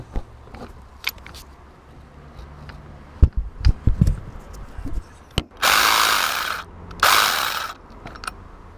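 An AC Delco 3/8-inch cordless ratchet whirs in two loud motorized bursts undoing a bolt, preceded by scattered clicks and taps of handling, close up and without speech.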